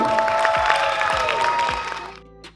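An awards-ceremony audience claps in a dense burst of applause that gradually fades out, with a musical tone sounding underneath.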